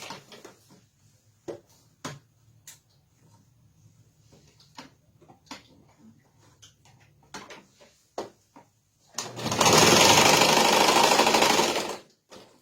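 Light handling and fabric rustles, then a sewing machine running in one loud continuous burst of about three seconds while stitching the body of a Tilda sheep doll.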